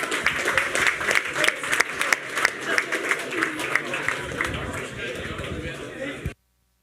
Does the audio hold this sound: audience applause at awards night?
yes